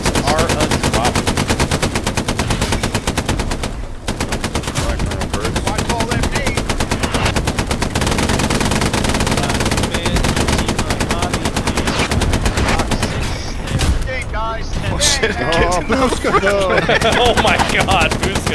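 Sustained machine gun fire in the World War II shooter Hell Let Loose, loud and continuous with rapid bursts, distant battlefield gunfire behind, and a voice talking over it near the end.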